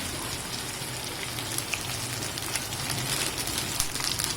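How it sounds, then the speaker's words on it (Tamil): Curry leaves and ginger garlic paste sauté in hot oil with a steady, dense crackling sizzle and scattered sharper pops, heard close up and alone. "கருவேப்பிலையும் போட்டு நல்லா வதக்கிக்கலாம்."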